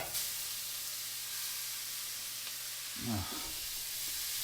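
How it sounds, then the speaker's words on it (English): Beets being added to toasted onions in a pan for borscht: a steady broad frying hiss, then a brief clatter and scrape as the vegetables drop in near the end, with no talk. "We're going to add half of the beets."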